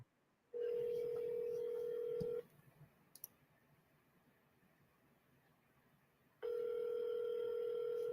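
Ringback tone of an outgoing telephone call: a steady, clear electronic tone sounds for about two seconds, falls silent for roughly four seconds, then starts again, with no voices.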